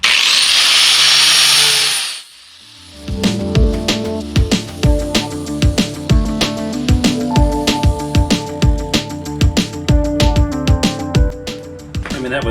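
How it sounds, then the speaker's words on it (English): A loud continuous hiss cuts out after two seconds, then a 60-grit flap wheel grinds live-edge wood shelf boards in rapid repeated bursts and pulses, close and sustained. "we will use the 60 grit flapper wheel to do initial shaping"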